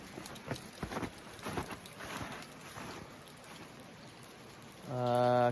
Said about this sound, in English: let me see if it's still raining out here